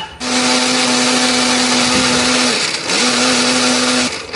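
Blender grinding a spice paste of shallots, garlic, ginger and turmeric with added water or oil, a loud steady motor whir that stops briefly, then restarts and runs again.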